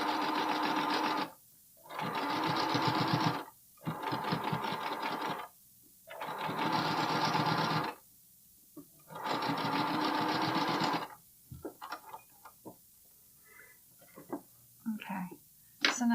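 Domestic sewing machine stitching a stretched bralette seam in five steady bursts of a second or two each, separated by short pauses, followed by faint handling clicks and rustles of fabric.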